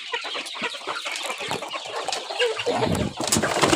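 Chickens cluck busily while being fed unhusked rice grain after work in Mae Sariang, a dense overlapping flock chatter with sharp calls close by that grows louder and fuller toward the end.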